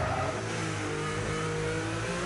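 A race car engine revs hard in a sim racing game, a continuous close mid-pitched drone that holds steady through a corner, with no talk.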